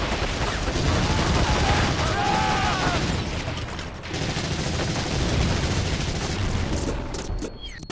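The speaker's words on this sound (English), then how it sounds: "Sounds like they may have a bloody machine gun!" Sustained German machine gun fire rattles through a World War II battle in Medal of Honor: European Assault, a dense, continuous barrage of gunfire and distant booms lasting throughout with no pause.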